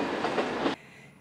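A passing train rumbles with a rhythmic rolling clatter, then cuts off abruptly to quiet background after under a second.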